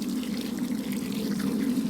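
Water pours from a 10 litre can onto a newly planted tree, making a continuous close splashing gush onto soil that stays steady throughout the short stretch.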